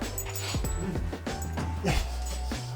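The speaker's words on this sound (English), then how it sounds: "Whoa, whose dog is this?" Dog giving short yips and whimpers in a British Army military gym, several quick high cries in an irregular burst, close by over background noise.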